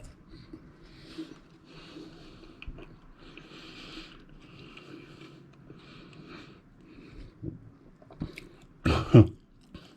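Someone eats a homemade burger of slow-cooked pork ribs, with soft chewing running steadily throughout and a louder crunchy bite near the end, no talking.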